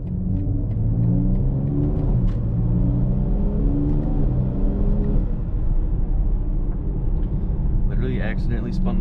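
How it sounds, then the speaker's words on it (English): A BMW M4 Competition with an S58 engine and ZF8 transmission spins its tires on a neighborhood street, a loud, close engine rumble rising and falling with revs, with brief tire noise near the end. "Accidentally spun tires."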